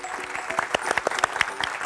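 A few hands clapping in quick, uneven bursts, close and fairly loud, a small group applauding for a couple of seconds.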